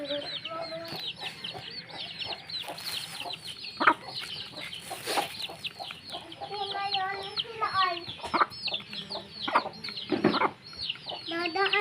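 Chickens cluck and squawk in bursts close by, with overlapping calls from several birds throughout and a person's voice occasionally mixed in.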